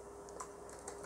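Soft, quiet keystrokes on a computer keyboard come as a few light taps while code is entered, over a faint steady hum.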